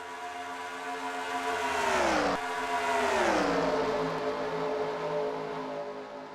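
Stock cars racing at Texas in a racing video game give off a steady, loud engine drone whose pitch rises and then sweeps down as the pack passes, with no talk over it.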